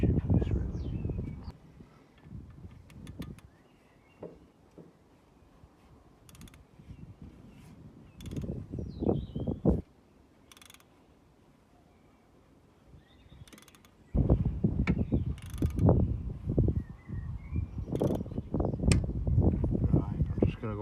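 A ratchet clicks in bursts while working on the timing chain of a Vauxhall Combo 1.3 CDTI on a driveway, quick repeated clicking strokes separated by quieter pauses.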